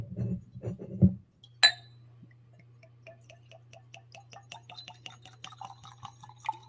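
A drink is poured into glasses: a sharp glass clink, then a faint steady trickle of liquid with small ticking drips rising as the glass fills, quiet and close, after a brief burst of low background noise.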